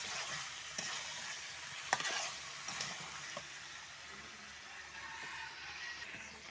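Beef curry simmers in a pot with water added for the gravy, giving a soft, quiet sizzle and bubbling alongside a few light stirring scrapes.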